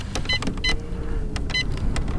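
A boat's trolling motor holds position on spot lock, giving a steady electric whir with brief whining pulses that rise and fall, close by and continuous with no talk.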